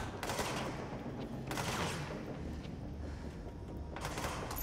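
Rockets fired in the video game Control, heard as repeated loud blasts that burst out against a rumbling combat background, with a noticeably clustered volley near the end.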